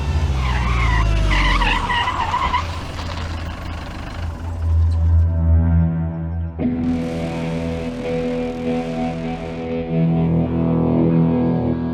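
A car skids to a sudden stop on a road, with a loud, sustained tire-and-engine screech building to a sharp cutoff around the middle, followed by a steady low engine rumble and dramatic background music.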